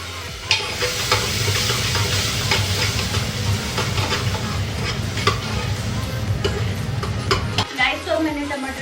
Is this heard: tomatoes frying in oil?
yes